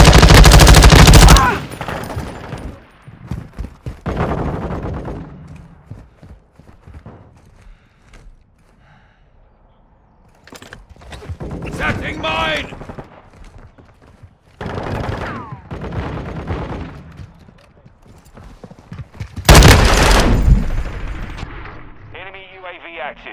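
Bursts of gunfire from a multiplayer team deathmatch in Call of Duty Modern Warfare 2 (2022) on the Farm 18 map, with loud volleys at the start and near the end, scattered shots between and game announcer voice lines.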